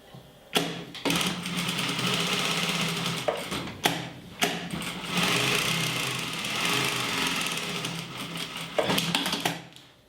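A sewing machine stitches structured fabric in sustained runs of rapid mechanical whirring, close and steady, broken by short stops and restarts between seams.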